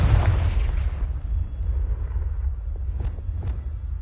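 The Confringo blasting spell in Hogwarts Legacy sets off a heavy boom with a deep rumbling tail, followed by a couple of fainter, softer pops as the blast fades.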